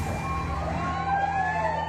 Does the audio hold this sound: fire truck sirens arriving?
yes